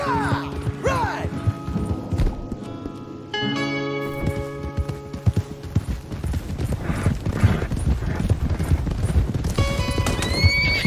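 Rapid clip-clop of galloping hooves with several horses neighing and whinnying, loud and close, layered with game-style effects from Red Dead Redemption 2.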